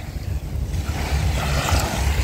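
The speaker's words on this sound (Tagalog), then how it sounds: "Sa dagat kami." Sea waves washing around a small fishing boat out on open water, a continuous rough surf and wind rush that swells louder toward the end, close and without voices.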